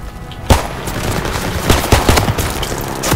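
Gunfire in Call of Duty WW2, a sudden loud burst followed by rapid, overlapping shots and echoing reports that carry on steadily at close range.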